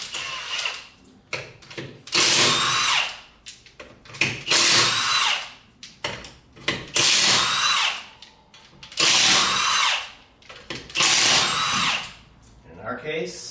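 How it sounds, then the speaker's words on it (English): Bursts of a power impact tool whir and rattle on the lug nuts of a Ford F-150 front wheel, coming in about six loud pulses of a second or two each, separated by short pauses. "Now if you don't have an impact tool like this, what you want to do is break torque on these with a 1/2-inch breaker bar"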